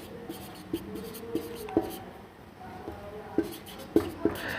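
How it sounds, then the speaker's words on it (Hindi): Handwriting on a board during a lesson, with soft irregular scratches and taps of the pen or chalk, close and quiet, with no talk during the strokes. "दोबारा से लिख देता हूं मैं"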